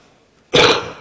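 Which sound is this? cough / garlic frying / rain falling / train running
cough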